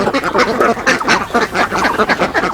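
A flock of ducks on a duck farm quacking loudly and close, overlapping calls in a continuous rapid chorus.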